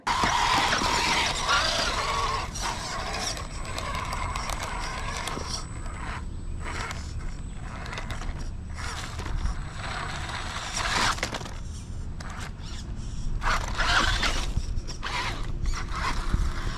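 A Vanquish H10 Optic RC trail buggy grinds through its gears while crawling over rough terrain, giving a steady whining, ratcheting mechanical drone with squeals, close and continuous, no voices.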